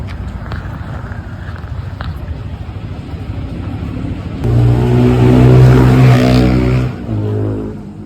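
A car engine near Chhatrapati Sambhajinagar revs hard as the car is driven out, its loud roar starting midway and rising then falling, after a stretch of quieter background rumble.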